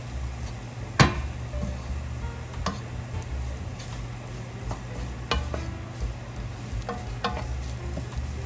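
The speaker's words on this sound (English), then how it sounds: "We'll mix that around, let that kind of cook in, let that flour kind of brown in a little bit." Flour is stirred into Irish beef stew in a frying pot. A spoon scrapes and knocks against the pot at irregular intervals over a soft, continuous sizzle, up close and without speech.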